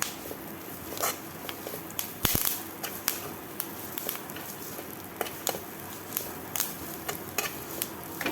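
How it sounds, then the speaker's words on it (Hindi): Drumstick leaves and curry leaves frying in a spice masala for a spicy green chilli dish, a soft continuous sizzle broken by scattered clicks and scrapes of a spoon stirring the pan, with no talking. "ये सहजन के पत्ते और कड़ी लीफ अच्छे से भुने जा चुके हैं, मसाले में अच्छे से मिक्स हो चुके हैं।"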